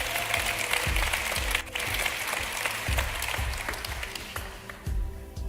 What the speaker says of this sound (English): Please give a round of applause to our special guest on Facebook.